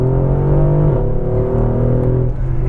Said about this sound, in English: Acceleration, I'm gonna floor it.